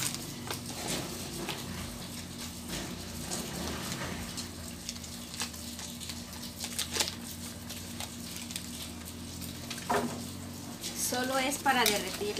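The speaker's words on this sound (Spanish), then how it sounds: "Solo es para derretir la margarina." Margarine melting in a frying pan while being stirred, with close scraping and clinking of a utensil against the pan and a soft sizzle underneath.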